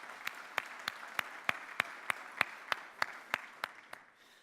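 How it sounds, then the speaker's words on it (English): A seated audience gives a round of applause for donors at a live event, the crisp rhythmic claps steady and moderately loud, then trailing off near the end. "if you guys could give them a round of applause for their donation"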